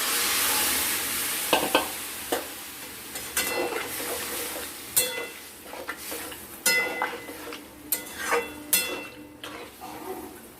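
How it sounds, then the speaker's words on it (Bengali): Masala for chela fish sizzling in a pan as a little water goes in, with continuous frying hiss, scattered spoon clinks and scraping stirs against the pot, fairly close. "এবার আমরা এতে দিয়ে দিব সামান্য পরিমাণে জল।"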